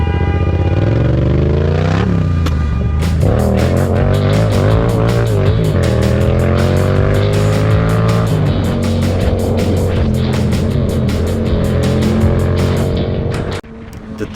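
On a road, a white car overtakes a motorcycle across a solid line, engine noise swelling and rising in pitch as it revs past, then cutting off abruptly near the end.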